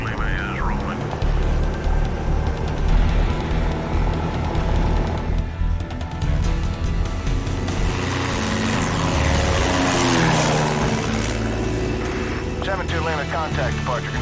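A propeller airplane in Pro Pilot '99 begins its takeoff roll on runway 36 at Meigs Field, its engine droning loudly and steadily while the pitch and intensity build over the run.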